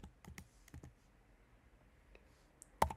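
Code is typed on a computer keyboard, a few quick clusters of close, crisp key clicks separated by quiet gaps and ending in one sharper, louder press.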